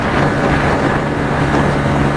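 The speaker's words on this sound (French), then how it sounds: "j'espère que vous m'entendrez bien malgré le bruit du vent et de la moto" Steady wind roar and engine drone from a Yamaha MT-07 motorcycle while riding, a constant loud rushing noise with no pauses.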